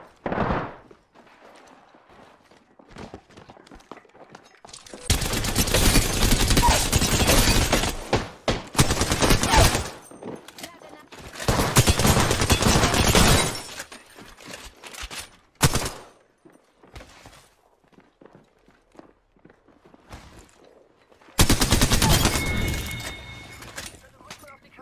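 Several loud bursts of rapid game gunfire, each lasting a few seconds, separated by quieter stretches with talking in between.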